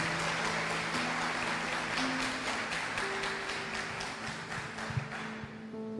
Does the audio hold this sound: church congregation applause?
yes